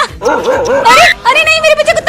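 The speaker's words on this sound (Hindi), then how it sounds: "मेरे पीछे कुत्ता पड़ गया, भागो" A dog barks and yips in quick, close, excited bursts in a cartoon scene, mixed with whimpering tones.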